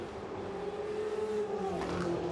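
GP2 race cars heading into a run of six consecutive 90-degree corners on the Baku street circuit, with a continuous engine drone that holds steady at a moderate distance and shifts slightly as the cars work through the turns.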